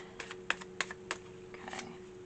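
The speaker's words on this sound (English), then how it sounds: "One more shuffle. I'm going to take the top 3." Tarot cards being shuffled at a reading table, soft papery flicks and riffles in a few quick bursts, close and quiet against a faint steady hum.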